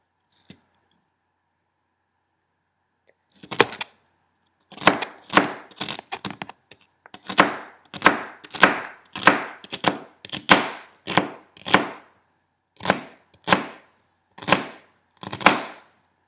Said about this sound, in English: Now you have all of your celery chopped.